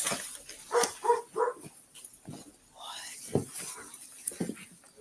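A dog running around a house gives short barks and whimpering yips in scattered bursts, fairly close, mixed with people talking nearby.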